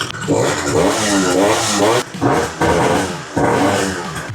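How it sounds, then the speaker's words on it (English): A small scooter engine, converted to pre-mix fuel and revving on its own, needing tuning, revs up loudly in repeated surges, rising in pitch, briefly dropping off, then climbing again, close and raw. "It's revving up way faster too."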